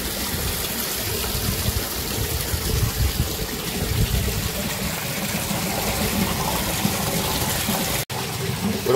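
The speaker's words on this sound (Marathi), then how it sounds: "थोडं पडत असेल पाणी, टाकीत पडते पाणी." Water from a motor pump pouring into a tank under a hot summer sun, a steady close gushing splash running continuously and cutting off briefly near the end.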